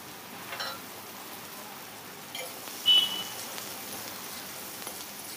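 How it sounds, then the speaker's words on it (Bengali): Potol (pointed gourd) frying in oil: a steady, faint, rain-like sizzle hisses throughout, with a few slightly louder crackles and pops rising above it. "এখন পটলগুলো ভেজে নেব।"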